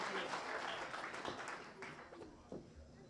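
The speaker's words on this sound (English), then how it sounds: "Big round of applause for John" Audience applause at a Chicagoland Championship Wrestling event, a steady wash of clapping that fades gradually over about three seconds, with scattered louder claps and some crowd voices mixed in.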